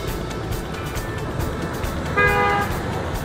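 Busy daytime street traffic on Trần Duy Hưng in Hanoi, heavy with motorbikes and cars, a steady close roar of engines with one clear horn toot near the end.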